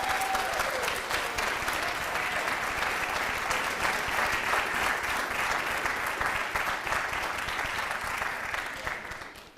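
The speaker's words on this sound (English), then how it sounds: "You may applaud." Audience at a National Honor Society and National Art Honor Society induction ceremony applauds in a long, even wave of dense clapping that holds steady before fading out at the end.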